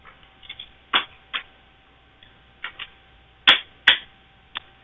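Tarot cards being shuffled and dropped in separate short bursts, crisp slaps and flicks spaced irregularly, close and fairly quiet between strokes.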